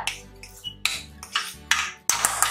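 Sugarcane juice pongal being vigorously stirred in a pot after cardamom powder goes in: loud, rhythmic scraping strokes roughly every half second, each a swishing rasp against the vessel, close up and without speech.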